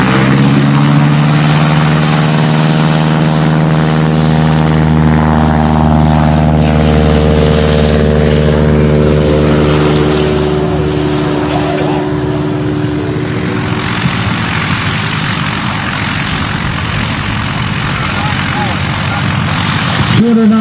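A Super Cub's engine roars loud and close through a short-field takeoff contest run, with steady propeller drone and rising, sliding engine harmonics as power builds, then a broad rushing wash as the plane moves away; voices are faintly audible underneath.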